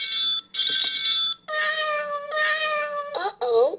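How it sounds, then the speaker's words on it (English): A toy cat gives an electronic meow sound effect: a few bright, tonal cries that bend in pitch and stand out over a steady synthetic musical tone, loud and close. "Ming Ming will get that kitty cat out of the tree. Meow"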